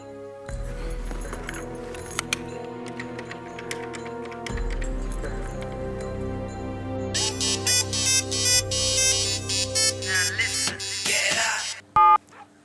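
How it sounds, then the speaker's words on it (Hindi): An electronic phone ring tone plays a repeating melodic pattern, followed by brighter dialing beeps and a brief clatter near the end; no talking. "शंकर के ही फोन लगावल ठीक रही।"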